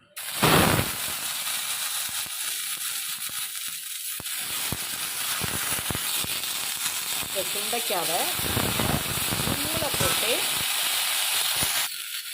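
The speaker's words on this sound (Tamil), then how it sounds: "இப்போ அதே எண்ணெய் சட்டியில் இன்னும் கொஞ்சோண்டு எண்ணெய் ஊற்றிக்கிட்டு இந்த சுண்டைக்காவை இதில் போட்டுறணும்" Turkey berries frying in oil in a pan, giving a steady broadband sizzle and hiss that runs the whole time, with crackles and a voice speaking over it partway through.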